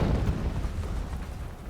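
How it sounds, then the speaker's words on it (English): A deep explosion rumbles in Horizon Zero Dawn Remastered, a heavy low boom that starts strong and rolls on as a dense, fading roar with no voices over it. "Explosion."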